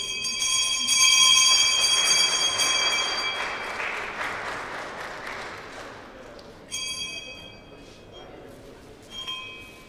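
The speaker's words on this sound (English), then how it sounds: "And now everyone is taking turns ringing the bell." Bell rung by hand at a stock exchange listing ceremony, a bright metallic ringing that is loud at first, fades under applause and crowd noise, then sounds again in short bursts.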